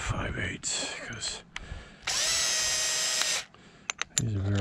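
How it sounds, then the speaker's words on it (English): A power drill driving a 5/8 bit, while building a floating dock against a seawall, whines in a loud steady burst of about a second and a half, with shorter high-pitched motor runs and bumps around it. "These drills suck too."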